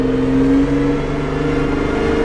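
A Porsche 911 Turbo 997.2 with a PDK gearbox runs loud and close, a steady droning engine note whose pitch steps partway through as the gear changes, then holds evenly.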